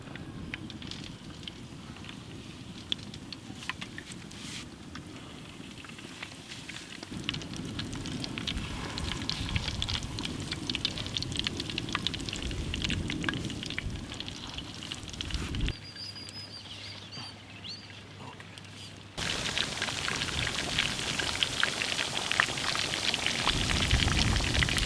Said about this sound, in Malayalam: എണ്ണ ചൂടായിട്ടുണ്ട്. നമുക്ക് പതുക്കെ ഇട്ട് കൊടുക്കാം.